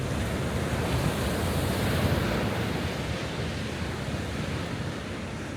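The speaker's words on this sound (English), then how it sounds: "All right, look at these waves though." Ocean waves break continuously against rocks at Half Moon Bay, California, a loud, steady roar of surf mixed with wind buffeting the microphone, with no voices.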